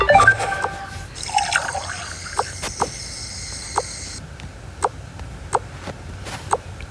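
Water is poured at a beach-day meal, a short splashing fill near the start followed by several sparse, clear drips at irregular intervals, close and fairly quiet, with no voices.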